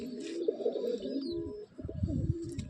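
Pigeons at a pigeon seller's coo nearby in soft, throaty, rolling phrases, with several overlapping calls and a faint higher chirp in the background.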